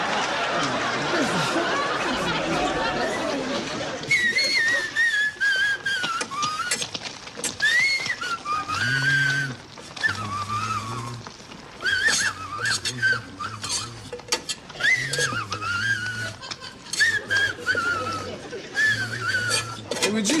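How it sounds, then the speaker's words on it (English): A person whistles a movie theme song in a repeated melodic tune, broken into short phrases, with clattering dishes and chuckling nearby and occasional talk between phrases. "knock off the whistling that's bothering me."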